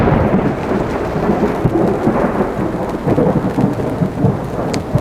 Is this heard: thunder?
yes